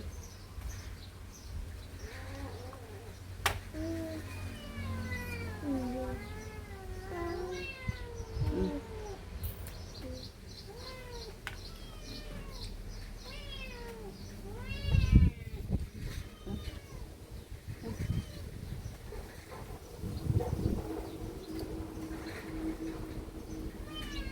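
A cat meows over and over, close by, in a long run of drawn-out and rising cries, with occasional thumps and faint background voices.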